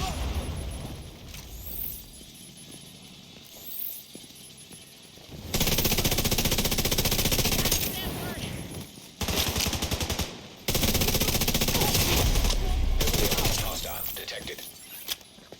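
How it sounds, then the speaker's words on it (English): Automatic gunfire and grenade launcher shots from the video game The Division 2 come in long loud bursts with short gaps between them, mixed with fainter clicks and game effects. "You want to make sure it's constantly up, so you will want to periodically switch to the grenade launcher,"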